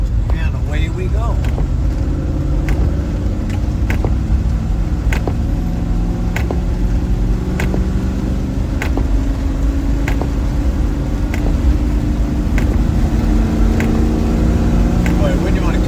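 Land Rover Defender 110 driving a muddy dirt road after heavy rain, a steady low engine drone with shifting tonal whine and rhythmic ticks and rattles from the vehicle, continuous and close.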